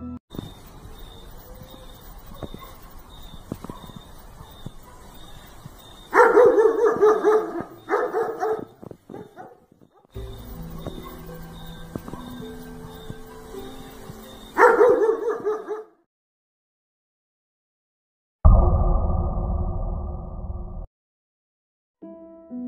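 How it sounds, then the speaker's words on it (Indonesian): A dog at night barks loudly in several bursts, the barks near and harsh, separated by short pauses and a few whimpering yips, with no talking. "seekor anjing di sana, yang pada saat itu langsung menggonggong dengan sangat keras"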